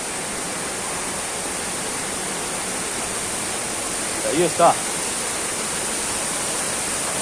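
Steady broadband rush of a jungle waterfall pouring into a swimming spot, constant and close throughout, with a few short spoken words partway through.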